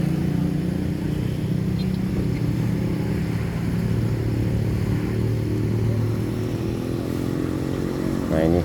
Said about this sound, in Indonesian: Nah ini kendaraan sudah antri teman-teman ya, sudah mau masuk